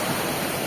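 Water flowing and seeping all around a rugged outdoor spot, deep enough to submerge a foot, gives a steady, loud, broadband rush with no pauses or voices.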